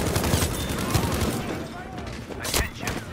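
Gunfire in a Battlefield V Conquest match at Al Marj Encampment, with bursts of shots over continuous battle noise and voices talking throughout.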